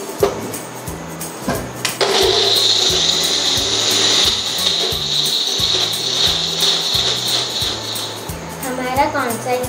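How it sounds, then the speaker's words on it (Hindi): A kitchen blender whirs steadily as it purees mango concentrate, starting up after about two seconds and running at a constant pitch for several seconds before winding down, with voices audible in the background. "मैं इसे अच्छे से ब्लेंड करूँगी।"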